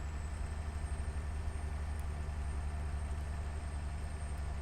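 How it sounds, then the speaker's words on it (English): A truck engine idles in American Truck Simulator, a steady deep rumble with a faint high whine above it, continuous and unchanging throughout with no talk. "Just enjoying the sound of the engine in the background."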